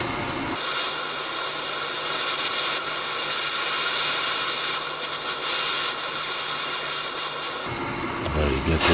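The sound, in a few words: blowtorch heating a screwdriver red-hot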